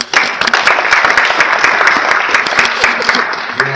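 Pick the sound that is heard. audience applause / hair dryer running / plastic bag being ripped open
audience applause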